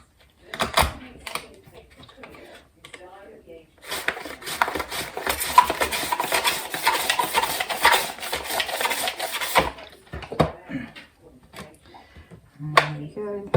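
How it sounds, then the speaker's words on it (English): An orange sliced on a mandolin, a run of steady close rasping strokes lasting several seconds, with brief handling knocks before and after and no talk. "I'm using my mandolin."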